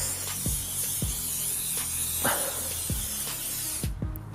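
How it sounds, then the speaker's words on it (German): Tire shine spray hissing from a can onto a car tyre in sunlight, one long continuous close spray with a few short low knocks and clicks underneath, cutting off abruptly near the end. "Ich sprühe das mal kurz ein."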